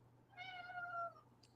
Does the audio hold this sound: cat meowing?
yes